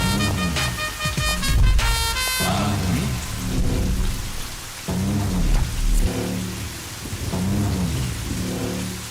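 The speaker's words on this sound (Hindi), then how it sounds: "इतना बारिश गिर रहा है, छतरी नहीं लाए हो का?" Heavy rain pours steadily in a film scene, a dense continuous wash with rumbling low swells and bursts of background music layered over it.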